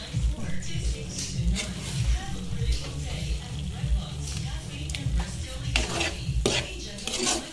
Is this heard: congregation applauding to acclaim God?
no